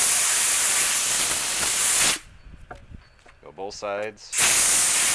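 Compressed air hisses loudly through the groove of a chainsaw bar, blowing out packed sawdust in two long steady bursts, with a brief pause between them where someone speaks.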